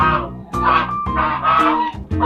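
Fighting chickens on a farm squawk loudly and repeatedly up close, a series of harsh, honking calls in quick succession with brief gaps between them.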